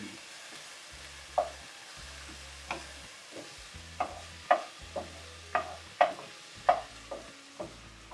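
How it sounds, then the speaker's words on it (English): Onions, garlic and thin rice noodles fry in a pan for chicken chow mei fun, a steady sizzle punctuated by regular clacks and scrapes from stirring, close and alone. "we've got our onions and garlic in there. And we're letting the thin noodles cook."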